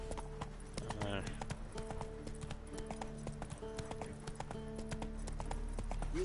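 Geralt's horse Roach gallops in The Witcher 3, with rhythmic clip-clop hoofbeats running steadily throughout, a brief neigh early on, and game music and effects underneath.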